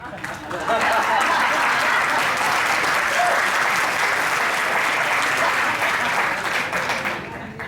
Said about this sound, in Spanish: ustedes van a tomar una de sus manos contra la otra de manera repetida. Eso se conoce como aplauso.